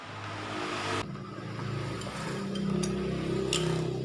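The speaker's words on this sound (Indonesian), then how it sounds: "Biasanya kalau bunyi seperti ini pantat sehernya yang sudah luka, sudah baret." A Yamaha Vega R motorcycle engine with a scored, damaged piston skirt runs steadily close by, its mid-pitched drone changing slightly in tone and rising a little toward the end, with faint metallic ticks over it.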